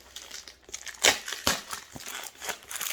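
Crinkly tearing and crumpling noises come in irregular bursts as tape and packaging are pulled off a diamond painting parcel, close and fairly quiet.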